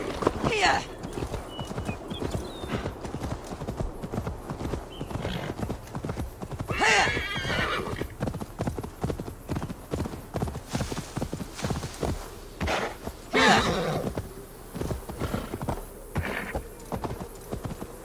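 A mount's hooves clip-clop in a brisk, steady rhythm across the ground in Assassin's Creed Valhalla, with three loud whinnies breaking out near the start, middle and end.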